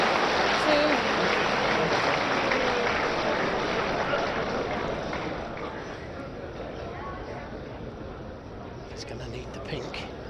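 Snooker arena crowd at the 2012 Shanghai Masters final, a loud, steady wash of applause and murmuring audience noise that gradually eases off toward the end, with voices mixed in throughout.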